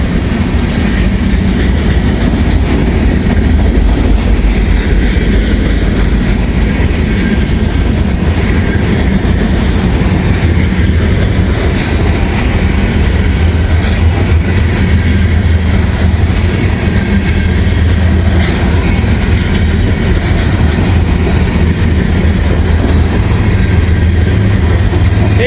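A freight train of grain hopper cars loaded with corn rolls past close by on a rainy day. A loud, steady rumble of wheels runs throughout with continuous clickety-clack, and no voices are heard.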